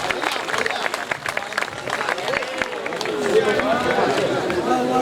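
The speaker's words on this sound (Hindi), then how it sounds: "दोनों हाथ उठाकर जोरदार तालियों के साथ आमंत्रित करिएगा भाई शैलेश लोढ़ा जी" An audience at a night-time Hindi poetry gathering in Khariar Road claps for the poet Shailesh Lodha, a steady wash of applause that swells toward the end, with voices mixed in.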